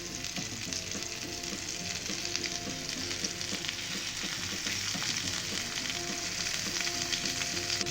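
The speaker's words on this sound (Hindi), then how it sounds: "जब भी आपको खाना हो तो आप इन्हें इस तरह से शैलो फ्राई करें" Chicken seekh kebabs shallow frying in oil in a pan, a dense, even crackling sizzle that carries on steadily throughout, close and alone without any voices.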